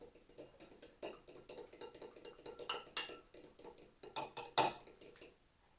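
Egg yolk with a pinch of salt mixed in a bowl for a tea cake, a utensil clinking against the bowl in quick, steady rhythmic strokes that stop near the end.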